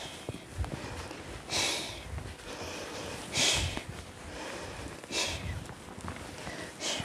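A person doing an endurance workout breathes in through the nose and out through the mouth, repeated close sniffing inhales and puffing exhales at a steady rhythm, fairly quiet.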